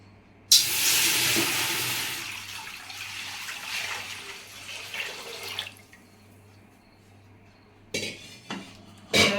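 A large metal cooking pot is set down and handled in a home kitchen while water is readied for boiling wheat starch. A sharp clatter opens into a long run of scraping and knocking, then a few louder bumps near the end, with no talking.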